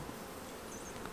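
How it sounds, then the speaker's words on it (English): Honey bees buzzing around an open long hive, a dense steady hum filling the air at close range, faint and continuous with no talk. "Nice calm bees though."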